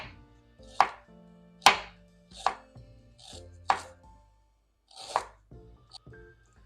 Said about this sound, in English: Now we're gonna cut the ginger.